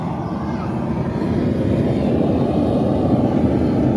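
VEVOR propane metal forge burner roaring hard, a loud, steady, unbroken rush of flame noise throughout.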